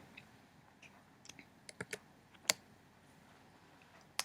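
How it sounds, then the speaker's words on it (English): Someone types on a computer keyboard while entering a letter in Microsoft Word: a sparse series of soft, close keystrokes and clicks at irregular intervals, with a sharper tap around the middle and one at the end. "now you'll type your new last name initial"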